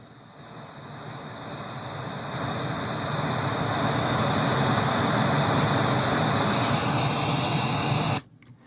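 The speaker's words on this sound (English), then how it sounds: "bring up the master volume on the interface so that the pink noise is at a moderate level" Steady broadband pink noise hisses continuously through a sound system as a measurement test signal, slowly rising in level over the first few seconds, then holding even before stopping abruptly.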